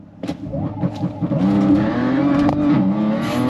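An Integrated Engineering Stage 2+ Audi B8 S4 launches on the street with fuel cut launch control, its engine revving hard and building to a loud, sustained near roar with sharp pops early on.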